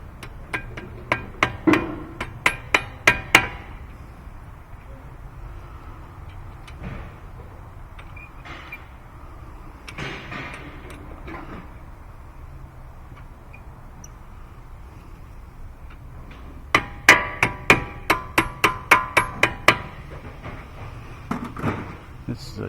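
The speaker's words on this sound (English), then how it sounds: "Grab my hammer here." Hammer striking parts while replacing front brake pads and rotors on a BMW 750 xDrive: clusters of sharp metallic taps in quick rhythmic runs near the start and end, with scattered single knocks between, close and fairly loud.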